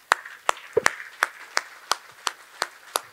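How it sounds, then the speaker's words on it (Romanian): At a conservative gala, audience hands clap in a sparse, steady rhythm: around nine distinct, evenly spaced claps that stand alone without talk. "Aplauze pentru dumneavoastră, dacă se poate."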